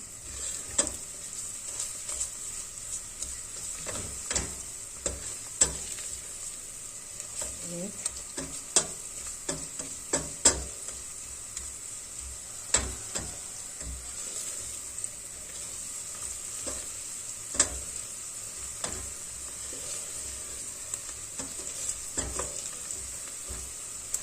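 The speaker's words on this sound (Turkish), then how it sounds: "Salçamı güzelce kavuruyorum" Tomato paste sautéing in a pan for a zucchini dish, a faint steady sizzle with frequent light clicks and scrapes of stirring, close and quiet with no talk.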